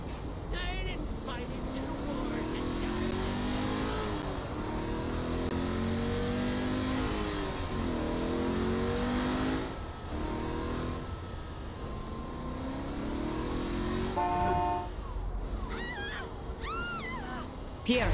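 Car engine in the Saints Row The Third video game, revving and shifting as it drives, rising and falling pitch sweeps repeating steadily with game sounds layered in.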